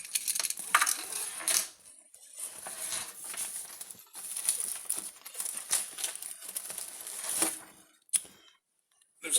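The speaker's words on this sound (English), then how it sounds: "Another set of keys on this bag." A set of keys jingles and clinks inside a crinkling plastic bag while the bag is opened during a walkthrough of a Rockwood Signature 8355SB camper, in irregular close bursts with short pauses.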